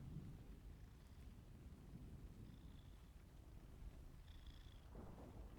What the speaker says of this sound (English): Listen to that big old purr.